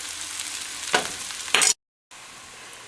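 Chow mein noodles frying flat in a pan, an even close sizzle with a couple of louder crackling bursts before a brief cut to silence, then quieter sizzling resumes.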